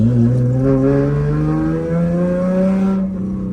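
A car with a cold air intake modification drives along local roads, its engine note a steady, loud drone with rising harmonic tones as it accelerates and shifts, continuous throughout and dropping slightly near the end.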